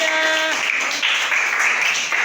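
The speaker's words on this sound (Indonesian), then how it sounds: "kasih dong tepuk tangan untuk kelompok 3" Steady applause from a class group after a group presentation, a dense wash of clapping that holds for a couple of seconds, starting over a brief tonal sound.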